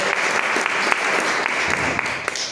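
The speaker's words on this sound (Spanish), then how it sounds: "Den un aplauso a Jesús." A church congregation applauds steadily, a dense wash of many hands clapping together at moderate volume, sustained without pause for a couple of seconds.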